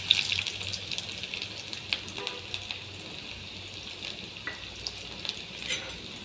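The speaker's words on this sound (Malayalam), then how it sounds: "വെളിച്ചെണ്ണ തിളച്ച് വരണ സമയത്ത് ചുവന്നുള്ളി ഇതുപോലെ തന്നെ കനം കുറച്ചരിഞ്ഞ് ഇതിലേക്ക് ഇട്ട് കൊടുക്കാം" Thinly sliced shallots fry in hot coconut oil, giving a steady close sizzle with occasional stirring clicks and scrapes throughout, and no talking.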